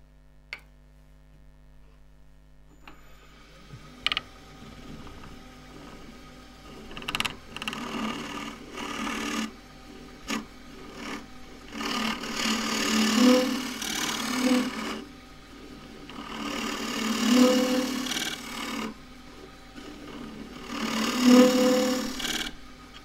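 Hollow form turning on a wood lathe, a bowl scraper working across the bottom inside: repeated swelling bursts of scraping and rasping over a steady lathe hum, growing louder in rhythmic passes, with no talk.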